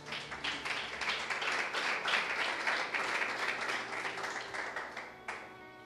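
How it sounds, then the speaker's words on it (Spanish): A church congregation applauding in worship gives dense, continuous clapping from many hands that holds steady for several seconds, fairly near and lively, then stops abruptly. "Aplauden a Yahweh, ¿verdad?"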